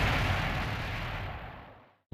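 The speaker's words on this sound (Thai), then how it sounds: "ปุ้มโดนระเบิดครับ" Explosion in the video game Project X Zone 2 on the 3DS: a loud blast whose rumble fades out over about two seconds, ending with a short sharp pop.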